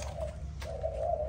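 A caged Malaysian spotted dove gives soft, rounded coos, a couple of low, hollow calls close by with a brief pause between them.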